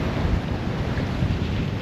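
Wind and waves aboard a sailboat at sea with about 18 knots of wind coming abeam: a loud, continuous rushing roar with buffeting wind noise on the microphone and no voices.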